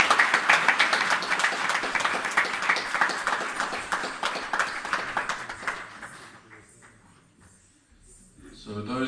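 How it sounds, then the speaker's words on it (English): A crowd at an Easter music program applauds warmly, the clapping loud at first and then gradually thinning out and fading to near silence. "Another round of applause, please."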